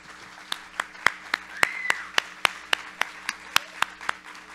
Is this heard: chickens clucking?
no